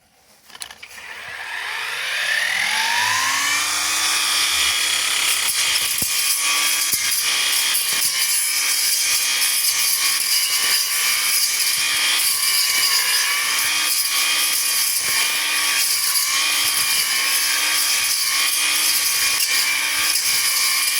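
A Procraft ATA40 cordless brush cutter spins up with a rising whine and then runs at a loud, steady high-pitched drone while cutting weeds behind a fence, with small fluctuations as the line strikes growth.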